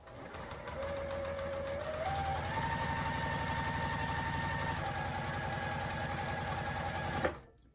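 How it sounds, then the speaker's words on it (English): A sewing machine stitches a baby quilt with batting along a quarter-inch seam, its steady close mechanical whirr running for about seven seconds before stopping abruptly. "I am just going to go ahead and start sewing and following along that 1/4 inch mark"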